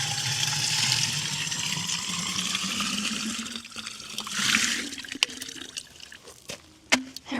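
Water from a garden pump rushing steadily, then tapering into trickles and drips, with scattered sharp knocks and clanks toward the end.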